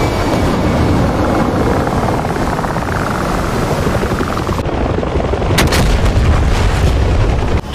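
Bombs exploding in a WarGames video game of A-10 Warthogs over Dien Bien Phu, a dense, loud rumbling barrage with aircraft drone, then several sharp, bright blasts near the end, no talking.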